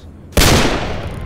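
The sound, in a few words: pistols firing in the video game Left 4 Dead 2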